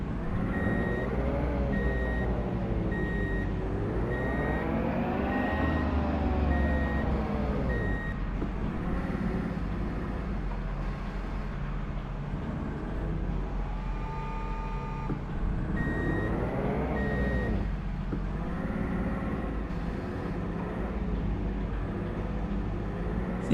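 Forklift reversing beeps from Truck and Logistics Simulator, a steady evenly spaced electronic tone repeating over loud low engine rumble and shifting machinery whine, with no talk.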